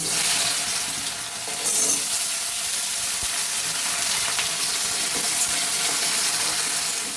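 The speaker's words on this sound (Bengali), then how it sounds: "এই যে কেটে ধুয়ে রাখা গাঁটি কচুগুলো আমি এই তেলের মধ্যে দিয়ে হালকা করে ভেজে নেব" Cut and washed taro root frying lightly in hot oil over a lowered gas flame, a continuous dense sizzle with faint crackles and occasional small clinks, steady and close throughout.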